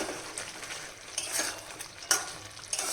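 Pre-fried potatoes go into a hot pan and are stirred, giving a soft continuous sizzle broken by several sharper scrapes and clinks of a utensil against the metal, close and fairly quiet with no talking.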